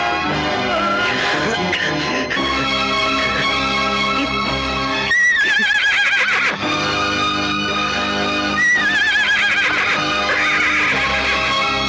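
A horse whinnies loudly several times amid a dense, loud film soundtrack with music and hooves, in a 1989 Hindi feature film scene.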